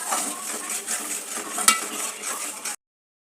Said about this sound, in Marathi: मसाला आपल्याला चांगला तेल सुटेपर्यंत फ्राय करून घ्यायचा आहे।